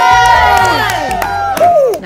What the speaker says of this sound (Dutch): Applaus voor Lennox.